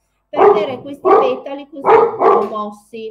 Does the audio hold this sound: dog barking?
yes